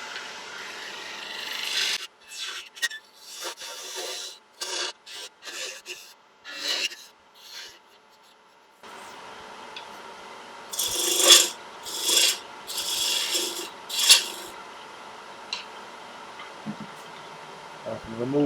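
A 10mm spindle gouge cuts a small spinning wooden snowman and Christmas tree on a lathe, making intermittent scraping and rasping strokes. Quiet talk comes between the cuts, and louder bursts of cutting follow later.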